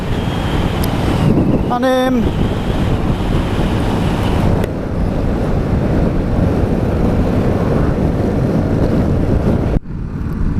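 Strong wind buffeting an open microphone on a motorcycle ride on a warm, sunny June day in Cyprus, a steady loud rush throughout with a brief spoken word near the start.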